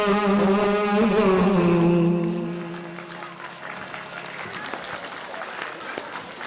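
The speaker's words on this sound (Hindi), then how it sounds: "चलिए एक बार और जोरदार ताली बजा करके" A held musical note fades out and an audience breaks into steady, sustained applause that continues to the end.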